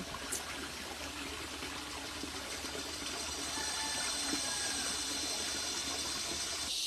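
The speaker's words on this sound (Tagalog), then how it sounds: "babanlawan na natin ngayon ang lahat ng aking mga panloob" Underwear is rinsed in running spring water, a continuous close trickle and gush of flowing water with light splashing that grows slightly louder toward the end, with no voices.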